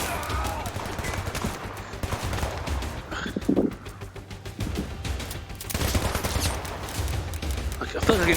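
Bursts of gunfire in the VR shooter game Zero Caliber, loud rapid shots and weapon sounds layered with game noise throughout, no clear talk.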